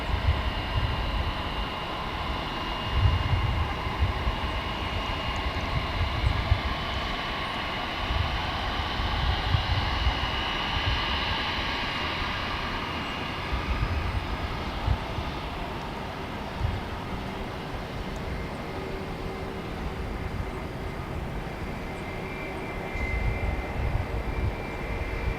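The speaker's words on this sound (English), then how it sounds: "Looks like an A319 headed over to the terminal area" An Airbus A319 jet taxis toward the terminal at Dallas/Fort Worth airport, its steady engine whine and broad rushing roar carrying from a distance without pause.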